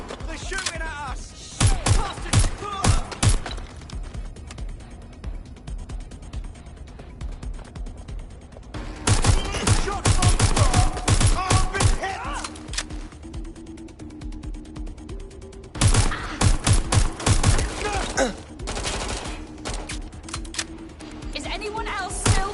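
Bursts of gunfire in the video game Watch Dogs Legion, loud volleys in three separate clusters with quieter stretches of mechanical background between them.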